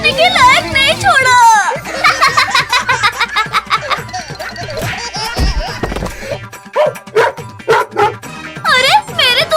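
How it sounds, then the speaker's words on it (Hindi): A cartoon dog barks in bursts amid loud, fast character dialogue, shouting and laughter, with the barks mixed tightly under the voices. "नहीं तो ये कुत्ता आज हमें नहीं छोड़ेगा।"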